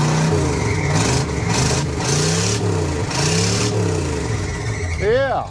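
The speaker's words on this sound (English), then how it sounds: "Give it a few revs when it's been sitting a long time on a cold start." A ramp truck engine revs on a cold start after sitting a long time, with repeated rising and falling revs close by, steady rumble beneath, and people talking over it.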